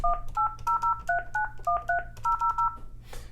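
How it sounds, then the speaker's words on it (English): A Yealink T27G VoIP phone plays DTMF tones while a number is dialed: about a dozen crisp, evenly spaced two-tone beeps in a quick rhythm, close and clear, followed by a short burst of hiss. "Let's dial our example number."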